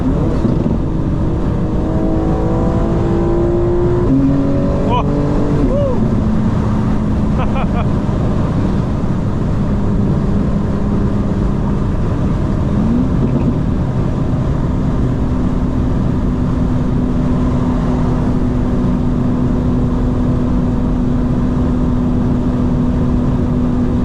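A 900hp 2025 BMW M4 Competition xDrive pulls hard through the gears from inside the cabin, with engine tone climbing, a gear change, then a steady drone in fifth gear under road noise.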